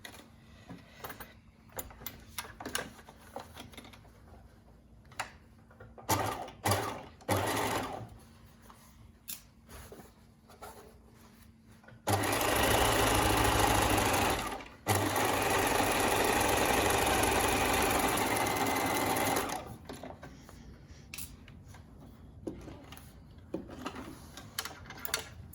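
A sewing machine stitches a pocket bag to scrub trousers with a 1 cm seam, running in a steady loud whir for several seconds between short start-stop bursts and quieter handling noises.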